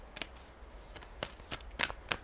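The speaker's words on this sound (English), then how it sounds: "I'm going to shuffle. We're going to pull some cards." A deck of tarot cards is shuffled by hand during a reading, with faint, soft riffling and brief card snaps at irregular intervals, quiet and close.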